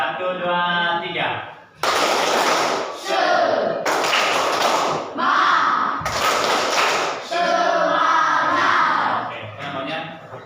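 A class of schoolchildren standing to perform a rhythmic clapping chant at the start of a lesson, with loud bursts of clapping alternating with shouted group voices in a steady call-and-response pattern.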